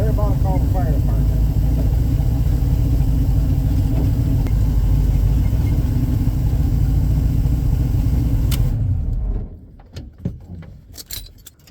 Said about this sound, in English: That's how you do a real burnout